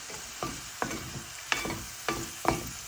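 Kangkong adobo with oyster sauce being stirred in a pan: a utensil scrapes and clacks against the metal about six times in a loose rhythm over a light sizzle, close and moderately loud, with no voices.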